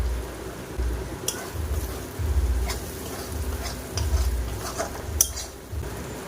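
Spices and ginger-garlic paste are stir-fried in a pan, a low sizzle with repeated spoon scrapes and light clinks against the metal at an uneven rhythm.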